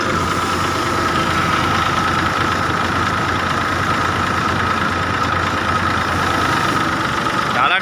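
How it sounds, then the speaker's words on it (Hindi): A tractor engine runs steadily while threshing hybrid paddy rice on a village farm, a continuous loud mechanical drone with a knocking rumble, and faint voices beneath it. "ट्रैक्टर आ चुका है और धान की दमाई देख रहे हैं।"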